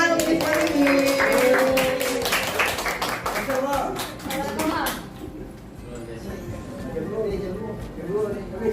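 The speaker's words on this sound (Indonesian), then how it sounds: "Mohon tepuk tangan untuk Miss Marini." A small group of teachers and students claps in a room for a colleague, a few seconds of quick close hand claps with voices mixed in, giving way to talking as the clapping stops.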